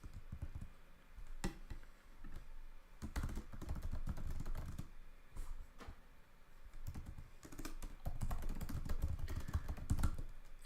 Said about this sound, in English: here I'm just typing what I just said